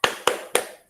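Children in a classroom clap together in a rhythmic chant, three sharp unison claps spaced evenly, loud and close, with a brief bright tone at the end.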